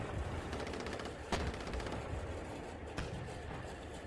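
Sustained gunfire from an armored assault in a military video game suppresses ATGM teams, rapid automatic bursts with a couple of sharper loud shots, heard at a distance under steady rumbling background noise.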